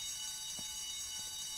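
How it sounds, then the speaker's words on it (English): An alarm rings continuously in the Spider-Man 2 video game, a steady high buzzing tone with faint rhythmic pulses beneath it, moderately loud and unbroken. "Guess I'd better check out that alarm"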